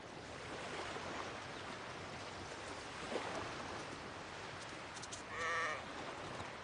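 Sheep bleat faintly in Iceland's wild coastal landscape, one brief call rising over a steady wash of wind and surf that fills the whole stretch.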